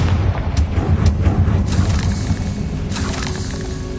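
Confringo, the blasting spell in a Hogwarts video game, bursts out as a loud, dense roar of booming, crackling impacts that fills the whole stretch without letup.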